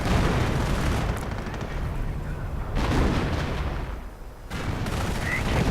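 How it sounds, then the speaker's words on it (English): Artillery strike in a World War II real-time strategy game: dense, continuous rumbling barrages of booms and blasts that fill the whole stretch, easing briefly before resuming, with no voice over them. "That's actually quite a devastating artillery strike."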